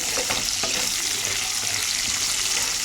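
Green chilli slits are stirred into vegetables frying in a pan, making a steady, loud sizzle with faint scraping from the stirring. No one speaks.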